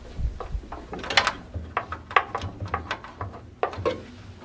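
Screws for the tilt and adjustment are worked loose at the back of a wooden sliding pantry, a run of faint, close clicks, ticks and light metallic rattles in an uneven rhythm, with no talk.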